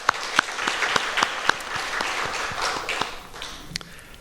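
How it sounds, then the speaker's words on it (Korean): A church congregation at a Friday service claps for the Lord, opening with a few sharp, separate claps before swelling into a brief, moderately loud round of applause that tapers off. "우리 주님께 영광의 박수 올려드리겠습니다"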